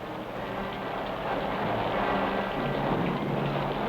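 A heavy storm with steady, dense rain and low rumbling thunder, probably in Korea, sounds as a continuous close roar that swells slightly midway, with no voices present.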